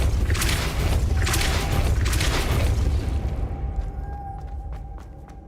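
Depulso spell effects in the game Hogwarts Legacy, a loud booming magical blast with a dense roaring burst that decays over a few seconds into a fading hum and a few soft clicks.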